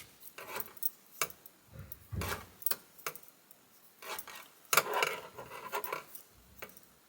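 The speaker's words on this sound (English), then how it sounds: "Please excuse the clicking noise of these needles on the wood." Sharp wooden clicks and taps of knitting needles on wood in an irregular rhythm, close by, some louder clacks among lighter ticks, with no voices.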